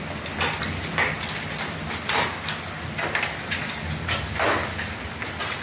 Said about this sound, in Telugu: మంచి ఫాస్ట్గా పడుతున్నాయి హెయిల్స్